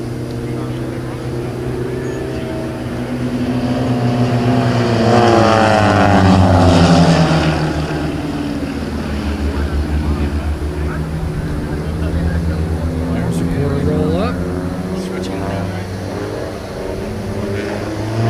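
Jets at the Pensacola Beach airshow roar overhead as they dive into a formation quarter roll loop, a loud sustained engine rumble swelling and fading with a Doppler sweep, with people talking under it.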